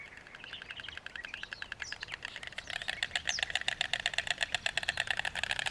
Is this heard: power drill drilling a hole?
no